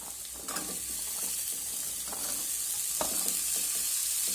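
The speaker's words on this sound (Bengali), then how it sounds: "বিনসগুলো দিয়ে আমি প্রথমে একটু নেড়ে চেড়ে নেবো" Green beans and onion stir-fry in a pan, a continuous soft sizzle punctuated by spatula scrapes and taps, fairly close and with no talk.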